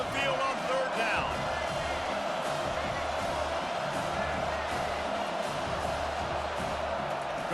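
Home crowd in a college football video game, Washington versus UCLA, roars steadily through a third-down defensive stand, a dense continuous wash of stadium cheering with a commentator talking over it.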